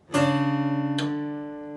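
A guitar slowly plays a two-note slide from a song intro: the second note sounds a moment after the first, then both sustain and fade gently.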